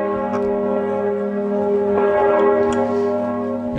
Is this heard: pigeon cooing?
no